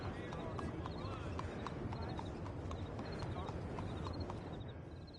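Horse hooves clip-clop at a steady walking rhythm in Red Dead Redemption 2, the evenly spaced hoofbeats continuous and fairly close over a busy background.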